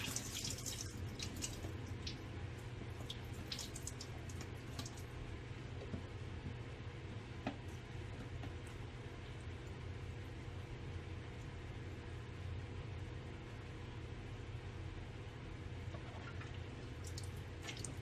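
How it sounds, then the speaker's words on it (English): Conch being given a last rinse in water and drained off in a kitchen, a steady running-water wash with scattered drips and splashes throughout, close and continuous with no talk. "So now I'm just like giving them a last rinse before I put them into the pot in hot water, and I'm just gonna drain that off."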